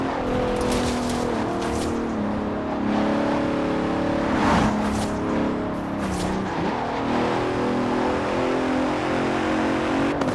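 Bentley Continental racing car in Forza Horizon 4, its engine revving and holding loud, steady harmonic tones with rises and dips in pitch across the whole stretch, no voices over it.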